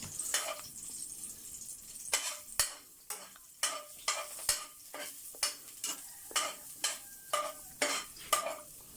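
Ginger sautéing in a pan is stirred with a utensil, making a steady series of rhythmic scraping and clinking strokes over a faint, quiet sizzle.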